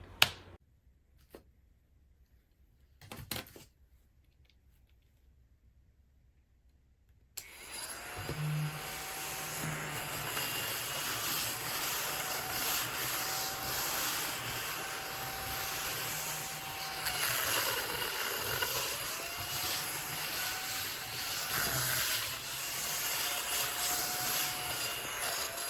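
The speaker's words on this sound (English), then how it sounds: "I'm obsessed with this little baby handheld vacuum" A mini rechargeable ODISTAR desktop vacuum cleaner starts after a few clicks and then runs with a steady high whirring hum. The hum shifts slightly in pitch as it works, close and continuous.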